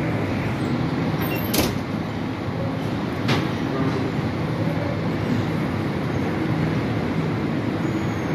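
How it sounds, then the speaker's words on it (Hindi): Pakistan Express, train 46 Down, pulling out of Faisalabad railway station, a steady loud rumble of carriages rolling close by, with a couple of sharp clanks partway through. "ऑन टाइम पाकिस्तान एक्सप्रेस जो है डिपार्ट कर रही है फैसलाबाद रेलवे स्टेशन से 46 डाउन।"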